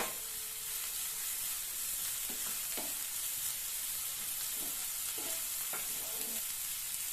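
Chopped onions and green chili sizzle steadily in hot oil in a pan, with a continuous close frying hiss and occasional stirring scrapes, no talking.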